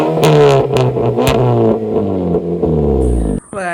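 A car with a valvetronic exhaust revving hard, several loud rising and falling engine bursts in quick succession before cutting off near the end.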